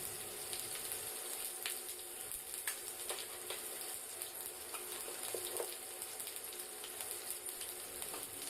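Five-spice seeds with green chillies crackling in hot oil in a home kitchen pan, a quiet continuous sizzle scattered with small pops and faint stirring, heard alone without talk.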